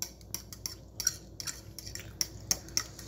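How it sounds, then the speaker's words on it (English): A utensil stirring a homemade banana pudding mixture with egg in a bowl, light repeated clinks and scrapes against the dish in an uneven rhythm, close and fairly quiet with no talking. "We're going to mix this together."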